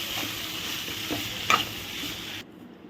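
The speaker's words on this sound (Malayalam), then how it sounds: "എന്നിട്ട് നന്നായിട്ടൊന്ന് വഴറ്റി കൊടുക്കുക." Raw banana pieces sautéing with asafoetida in a hot pan, a dense continuous sizzle with a few soft scraping stirs, close and loud, then cutting off abruptly near the end.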